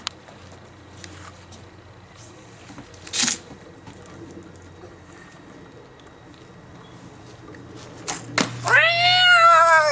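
A cat meows loudly and close near the end, with a drawn-out wail, after a quiet outdoor stretch holding a few faint bird coos and small knocks.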